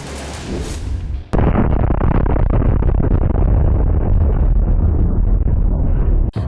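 A loud, sustained roar of explosions and crackling blasts from a burning Russian S-400 missile system at Cape Tarkhankut, Crimea, with a sharp burst near the start and another near the end.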